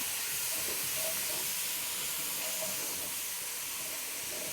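Onions sauté in a pan over lowered heat, making a continuous soft hiss that stays even throughout with no talking.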